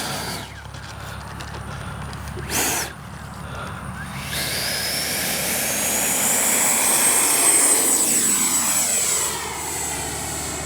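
A Freewing Yak 130 RC jet with a 70mm electric ducted fan whines loudly as it flies, the steady rushing roar swelling and shifting in pitch as it passes, heard outdoors without speech.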